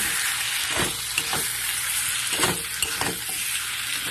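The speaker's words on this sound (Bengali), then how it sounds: "পটলগুলো দিয়ে আরও দু মিনিট আমি কষিয়ে নেব" Pointed gourd with tomato stir-fries in a pan, a bright continuous sizzle broken by several sharp scraping strokes of a spatula, close and without speech.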